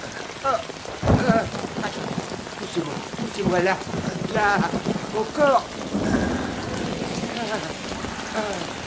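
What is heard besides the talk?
rain falling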